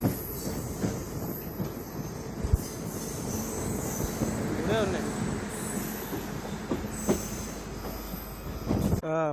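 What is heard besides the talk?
train moving on rails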